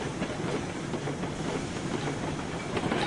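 Train cars from the Railroads Online video game roll steadily along the track with a continuous rumbling clatter and hiss, moderately loud and with no talk over it.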